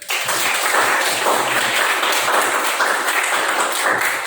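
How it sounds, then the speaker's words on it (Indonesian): A classroom group claps for a student's good answer in an Indonesian language lesson, dense, fairly loud clapping from several people, continuous for a few seconds with no talk. "Tepuk tangan dulu mungkin"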